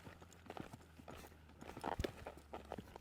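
A horse loping, its hooves clip-clopping in an uneven rhythm with one stumbling misstep, the hoof beats moderately close against a quiet background.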